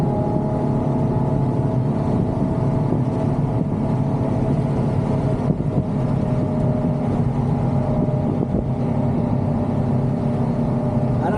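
Ferrari GTC4Lusso engine droning steadily while driving, a continuous loud cabin hum with steady tone and no talk over it.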